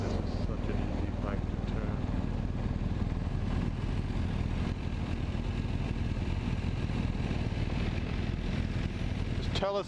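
A BMW R1250GS motorcycle engine runs steadily throughout, a loud continuous rumble with wind noise from riding at speed, and no talking.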